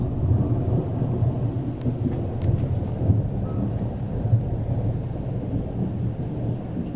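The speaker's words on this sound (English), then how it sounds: "you can't really see how much it is raining" A thunderstorm with steady heavy rain hissing and pattering, low rumbling thunder rolling underneath throughout, loud and continuous with no voices.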